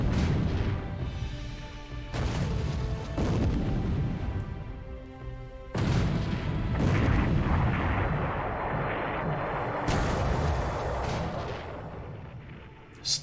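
Naval gunfire of 8-inch guns in the War in the Pacific: Admiral's Edition game, a series of heavy booming blasts with rumbling decay, several loud shots in irregular succession against continuous battle noise.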